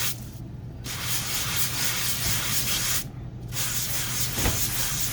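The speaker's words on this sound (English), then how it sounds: "I've not actually sanded the macrame, so let's just see what happens." Sandpaper rubbed across macrame-textured cardstock in steady back-and-forth strokes, a close, continuous scratchy rasp with two brief pauses, no talking.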